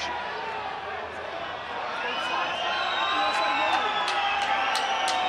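Stadium crowd at a Benetton Treviso v Ulster rugby match reacting to a collapsed scrum, a steady roar of many voices swelling slightly with scattered whistles and shouts, under a commentator's voice.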